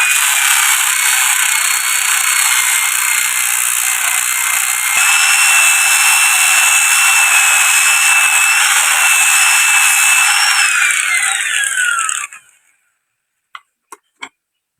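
A motorcycle front fork tube being polished on a spinning setup with 1000 to 1500 grit sandpaper, making a loud, steady high whine with a pitch shift near the end before it stops, followed by a few clicks.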